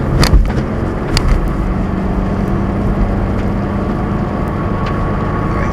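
A Subaru BRZ accelerating hard in 4th gear on a winter road, heard from inside the cabin as a steady engine drone layered with road and wind rumble, with a few sharp knocks near the start.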